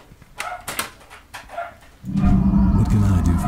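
Dogs barking at neighbors: several sharp yaps at middle distance in the first two seconds, then a louder, denser stretch of barking and noise that continues to the end.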